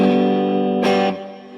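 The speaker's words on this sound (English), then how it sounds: "We are plugged into a tube screamer stacked with a Marshall Governor 2 pedal into some very, very cheap reverb" Electric guitar played through a Tube Screamer stacked with a Marshall Governor 2 distortion pedal into a cheap reverb: a loud, sustained overdriven chord with a brief bright attack before ringing out and fading.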